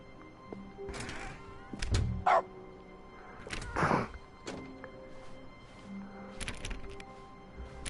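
A dog barking in The Stanley Parable: Ultra Deluxe, a few short, close yips and barks in separate bursts over a quiet office-like background with faint clicks and thuds.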